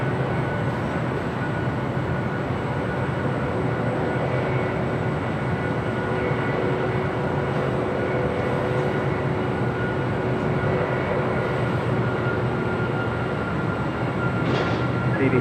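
A plane taking off from runway 25 right at LAX gives a steady, continuous roar of jet engines that holds at an even level throughout, with no talk.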